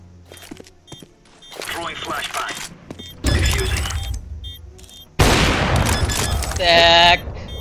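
In the video game CS:GO, AWP sniper shots crack and boom amid other in-game gunfire and impacts, with sudden loud blasts in a busy, layered mix over which a player talks.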